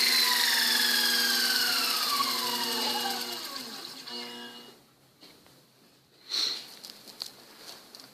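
A Taig lathe fitted with a DC motor conversion gives a strong tonal whine with stacked harmonics that slides steadily in pitch and fades over several seconds, followed by quieter mechanical noise and a brief hiss.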